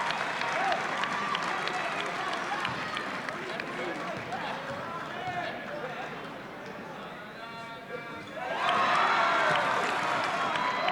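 Crowd in a high school gym at a boys' basketball regular season finale between East Brunswick and Piscataway claps and cheers, a moderate roar that swells loudly near the end while an announcer talks over it.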